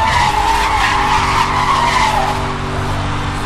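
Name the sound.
Dodge Charger tires skidding while drifting in Need for Speed Hot Pursuit video game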